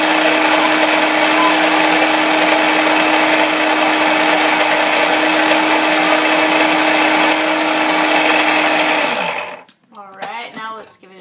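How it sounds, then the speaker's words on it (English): A blender whirs steadily and loudly for about nine seconds while whipping up a homemade spicy ranch dressing with an extra pepper, holding a strong motor hum, then stops abruptly as a person begins talking. "So I'm just going to put that back on and blend it up a little bit more."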